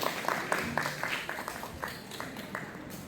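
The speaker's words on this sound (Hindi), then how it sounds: "हृदय को जीत लेने वाली कविता के लिए एक बार फिर से जोरदार तालियां।" Light, scattered applause from an audience at an inter-school Hindi poem recitation competition, a few claps at a time under faint background murmur, moderately distant.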